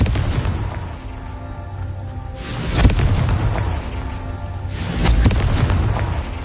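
Two booming Confringo spell blasts from Hogwarts Legacy erupt a couple of seconds apart, each a loud, broad explosive burst over a continuous low rumbling background.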